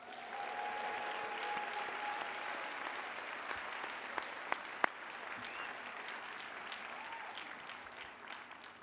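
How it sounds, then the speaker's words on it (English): Audience at a university commencement ceremony applauding steadily, a broad, even wash of many hands from a large crowd, heard at a distance and moderately quiet, with a few sharper claps standing out. "Let's give your advisors a round of applause."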